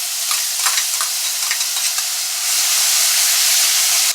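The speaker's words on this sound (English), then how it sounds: "And I'm going to add my onion, garlic, and pepper mixture." Onion, garlic and pepper mixture hitting hot oil, a steady hissing sizzle with light stirring taps that swells louder and denser in the second half.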